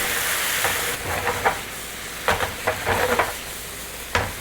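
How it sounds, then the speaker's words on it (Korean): Bean sprouts stir-fried over high heat with beef brisket and sauce, with a continuous loud sizzle broken by several scraping and clattering stirring strokes of a utensil in the pan, with no voices. "숙주랑 소스랑 충분히 섞어 주셔야 돼요"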